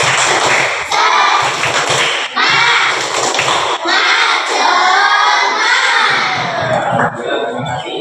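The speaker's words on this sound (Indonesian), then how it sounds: "Tepuk semangat, bisa tepuk semangat" A class of children performs the tepuk semangat spirit chant, shouting together in loud bursts punctuated by rhythmic group claps, close and energetic in a classroom with a few short pauses between phrases.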